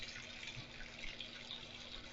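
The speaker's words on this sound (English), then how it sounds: "I just like to go ahead and toss the clothes in that I'm washing as the water is filling" Water pours steadily into a washing machine tub as it fills, a faint, even hiss and rush of liquid with no breaks and no talking.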